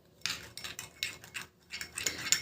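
A spoon works through a thick mix of okra gel, aloe vera gel and wheat flour, making quiet, close, irregular scraping and clinking strokes against the bowl in short bursts, with no talk.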